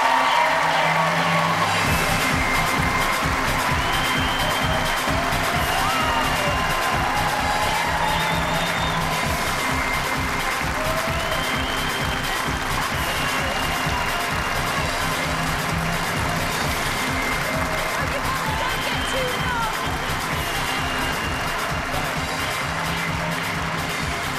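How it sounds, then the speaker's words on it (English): Audience at a live paranormal-investigation show in Manchester cheering and applauding, a dense, steady roar of clapping with whoops and crowd noise that holds at full volume throughout. "give them a big round of applause as we send them out"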